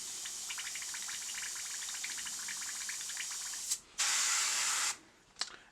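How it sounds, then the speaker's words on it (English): An airbrush backwashing primer paint in its cup, heard as a steady close bubbling hiss with faint gurgling that swells into two louder bursts of spray near the end. "And then I'm going to backwash in the cup."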